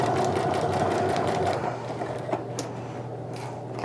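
A sewing machine runs slowly and steadily, stitching a thick bag seam through layers of interfacing, with a continuous motor hum that eases off partway through, close and alone.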